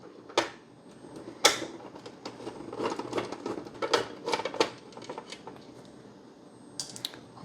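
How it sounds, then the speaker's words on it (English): Screws being removed from the underside of a vintage 1978 Electronic Simon game: quiet, close handling with scattered clicks, taps and small plastic knocks, a few sharper ticks standing out against a faint background. "Flip our unit back over and remove the screws."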